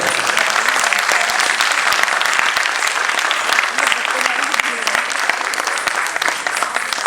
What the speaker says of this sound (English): They are waiting for audience to clap for them.